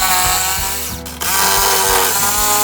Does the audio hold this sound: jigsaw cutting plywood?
yes